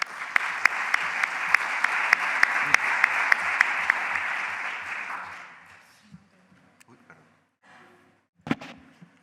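An audience claps at a conference talk, a dense, steady burst with a few sharp individual claps standing out, fading after about five seconds into quiet room noise with scattered late claps.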